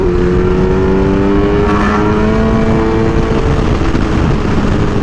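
A Kawasaki Ninja H2 motorcycle engine riding with a choppy throttle, loud and steady, with a droning mid-pitched tone and slight wavering in the revs throughout, with no voices.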